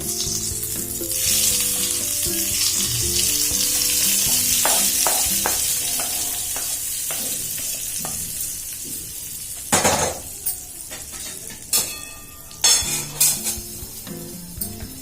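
Whole spices crackle and sizzle loudly in hot oil for a Mithila-style arikanch colocasia-leaf curry, the frying hiss strongest early, then easing as metal utensil clinks and scrapes against the pan break in near the end.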